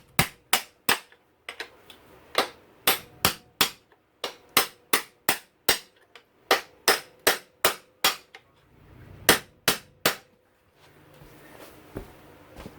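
A hammer strikes a bolt again and again to drive out a swingarm bearing on a motocross dirt bike, about two dozen sharp, loud metallic blows in uneven bursts with short pauses between them.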